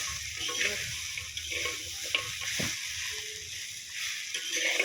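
Fried ingredients sautéed in a pan, a steady hiss and sizzle with scraping stirs, while a voice speaks faintly in the background.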